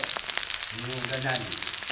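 Fertilized duck eggs fry golden in a pan with a steady, close crackling sizzle, and a brief voice rises over it partway through.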